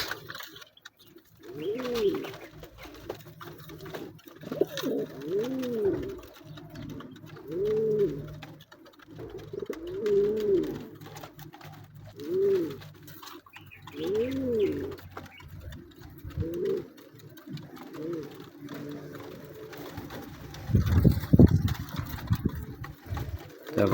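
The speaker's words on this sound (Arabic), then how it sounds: "هما الحميمات كامل كياكلوا ما شاء الله" Domestic pigeons coo repeatedly while feeding at home, a steady series of soft, rounded coos with faint clatter and a brief louder rustle near the end.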